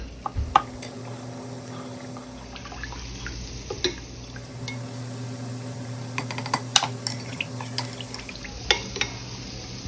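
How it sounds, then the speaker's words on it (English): Sauce ingredients with added water are stirred in a pan for a shrimp and broccoli garlic sauce, giving soft liquid swishes, scattered clinks and small drips against a low, steady background. "I'm also adding some water in the sauce ingredients"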